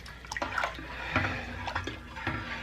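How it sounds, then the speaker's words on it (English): Ham and bean soup broth is ladled into jars in a series of close, wet sloshes and splashes, each scoop landing as a short liquid pour with small drips between. "I've got my ladle, and we'll scoop in"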